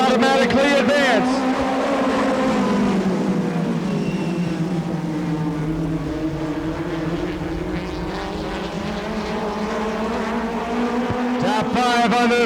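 USAC National Midget race cars roar into a turn on a Kansas City track, a loud continuous engine drone with pitch sliding down then climbing again as they pass, a commentator talking over it.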